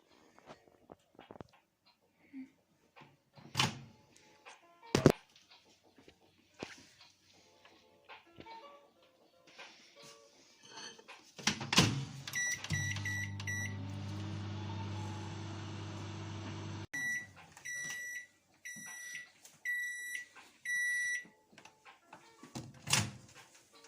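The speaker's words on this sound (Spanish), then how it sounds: "Y al final hay que meter el brownie al microondas." A microwave oven being used to bake a brownie: door clicks and thumps, then a steady low hum of the oven running for a few seconds, followed by a series of rhythmic electronic beeps and another door sound.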